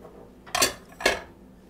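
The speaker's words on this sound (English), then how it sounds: "so now we're going to stir in the zucchini" A spoon or utensil knocks twice against a bowl while zucchini is stirred into chocolate loaf batter, two short, close clinks about half a second apart in a quiet room.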